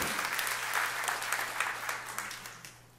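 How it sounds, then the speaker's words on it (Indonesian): Audience applause at a church service, a steady wash of many hands clapping that holds strong and then gradually thins and fades toward the end, with a low hum running underneath. "Tepuk tangan yang meriah untuk kemuliaan."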